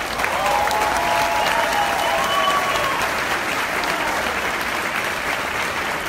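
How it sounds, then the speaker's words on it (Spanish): A hall audience gives sustained, dense applause at the 2018 Youth of the Year ceremony of the Boys & Girls Clubs of Puerto Rico, steady and even throughout, with faint voices rising briefly early on. "¿Qué se siente ese aplauso para Gerald?"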